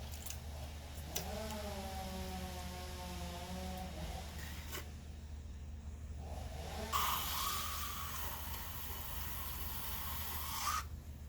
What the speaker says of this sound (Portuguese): Eu estou usando a lateral dessa língua, né? Uma língua chimpa, pequena, para dar uma regularizada nessa parede